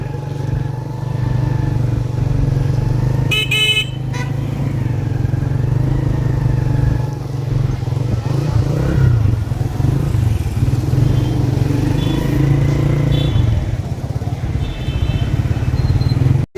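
A motorbike rides through busy street traffic in Rawalpindi, its engine a loud, constant close drone with a brief horn-like tone and surrounding traffic noise.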